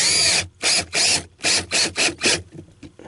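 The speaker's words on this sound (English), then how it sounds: "I'm going to try to get one screw kind of started." A power drill drives a screw into an RV cupboard in six short, loud grinding bursts with brief pauses between them, followed by a few faint clicks.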